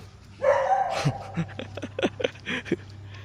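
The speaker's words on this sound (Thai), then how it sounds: "มันเห่าไม่หยุดเลย" A dog at a Thai temple barks repeatedly in short, loud, uneven bursts, whimpering and yipping between them, with a faint hum in the background.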